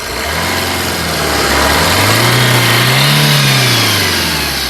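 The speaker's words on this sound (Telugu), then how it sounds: "ఇంజన్ యొక్క నాయిస్ చాలా అంటే చాలా పర్ఫెక్ట్గా అయితే ఉందండి" A 2015 Maruti Suzuki Swift Dzire VDI diesel engine runs loudly nearby, its steady hum rising in pitch as it revs briefly, then settling back down.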